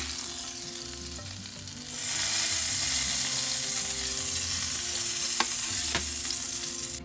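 Thinly sliced onions sauté in oil left from frying fish for a Kerala fish molee, a close, steady sizzle that swells louder after a couple of seconds, with a pair of sharp utensil taps against the pan.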